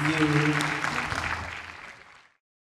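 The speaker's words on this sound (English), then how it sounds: "And a big round of applause to Nicola for doing this." An audience at a conference talk bursts into applause, a dense wash of clapping that starts loud and gradually fades to silence at the end.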